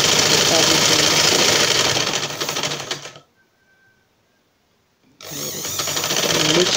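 A sewing machine stitching fabric for a scrunchie runs with a rapid mechanical whir and clatter, stops to near silence for about two seconds, then starts again at full speed.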